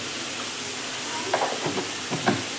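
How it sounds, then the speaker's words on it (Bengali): Chicken fries in oil with turmeric and Kashmiri chili powder over a raised gas flame, a steady hissing sizzle with a few soft stirring scrapes near the end, close and even, no one speaking. "এবার চিকেনটাকে আমি খুব ভালো করে ভেজে নেব"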